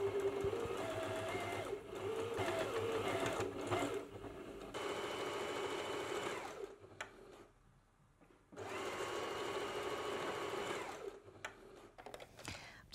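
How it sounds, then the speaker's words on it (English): Sewing machine running over a garment seam and back-stitching to lock it, loud steady whirring in long bursts separated by a brief quiet pause, with no talk. "Just gone over the seam there so it stops it coming undone. I double backed on it."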